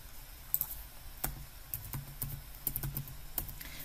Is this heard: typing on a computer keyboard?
yes